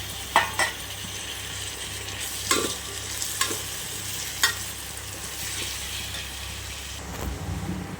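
Tomatoes sizzle steadily in hot oil while a utensil stirs them, with a few sharp scraping clinks against the pan.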